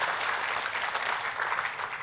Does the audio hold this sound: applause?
yes